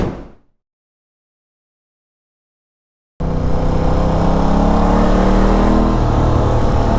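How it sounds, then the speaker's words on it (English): A sport motorcycle, one of a Ducati Panigale, BMW S1000RR or Aprilia RSV4, revs loudly and close after a few seconds of silence, its engine held at a sustained high-pitched roar. "the bike is starting to sound way better"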